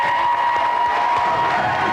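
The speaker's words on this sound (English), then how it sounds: "Round of applause for Claire." Studio audience applause on a video games TV show, a dense continuous burst of clapping and crowd noise filling the whole short stretch at steady loudness.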